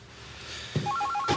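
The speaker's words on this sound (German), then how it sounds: "Es klingelt ununterbrochen." A telephone bell rings in a quiet room, opening with a thud and then a repeating electronic trill that starts partway through and continues, fairly close and clear, with no talking over it.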